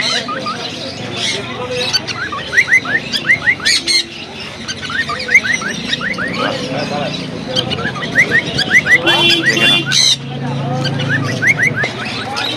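Lutino cockatiels and other exotic birds at a bird collection chirp and squawk in repeated bright bursts, with busy background noise and occasional people talking.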